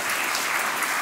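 Audience applause welcoming a woman author to the stage at a Dutch talk event, a steady wash of dense clapping filling the whole second with no voices.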